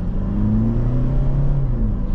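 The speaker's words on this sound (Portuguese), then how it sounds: "Mas a entrega desse motor aqui ficou bem bacana, muito top mesmo." A 2023 Toyota SW4 SRX engine pulls steadily under acceleration, a continuous low drone with a slowly rising hum heard from inside the cabin, with no talk.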